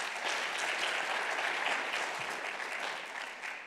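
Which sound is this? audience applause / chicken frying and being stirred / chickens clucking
audience applause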